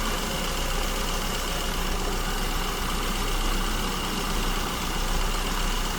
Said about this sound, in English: we can see again idle speed fluctuating quite wildly, and we are running too lean